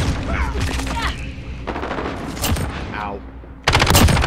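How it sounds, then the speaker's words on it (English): Rapid gunfire and booms in the shooter game Modern Warfare, with bursts of automatic fire and impacts coming in waves, loud throughout, while a player's voice talks over the action. "Stop shooting at me!"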